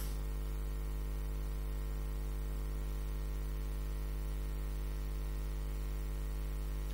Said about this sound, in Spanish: ¿Oís el ventilador?